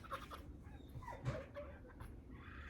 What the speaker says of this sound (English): There's my dogs trying to get in the house.